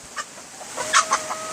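Backyard laying hens give a few soft, scattered clucks on a rainy day, faint and somewhat distant, with no talking.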